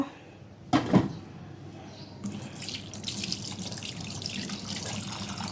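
A kitchen tap runs steadily over a sink as food is rinsed, a brief clatter near the start and then a continuous, fairly close stream of water for the remaining seconds.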